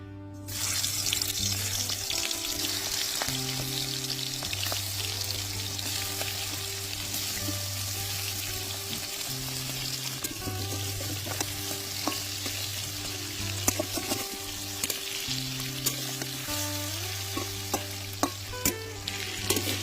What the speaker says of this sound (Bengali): চিংড়ি মাছগুলো ভেজে নিচ্ছি